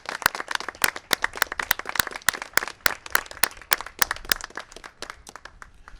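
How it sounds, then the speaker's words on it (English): Scattered, sharp hand claps from a small group at a storm recovery press briefing, uneven and fairly close, each clap crisp and distinct rather than a dense roar, fading slightly toward the end. "Let's have a round of applause for our first responders."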